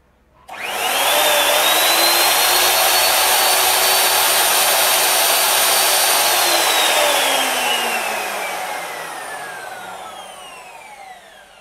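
A Ronix miter saw spinning up from a slow start to a loud steady whine of about 5300 RPM, holding several seconds at full speed, then winding down with a falling pitch as the blade coasts to a stop.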